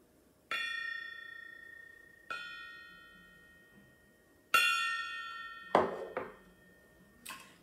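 A small desk gong, not a true gong, is struck several times on an office desk. Each stroke gives a bright metallic ring that fades slowly, with the later strikes coming closer together and ending in a quick clatter.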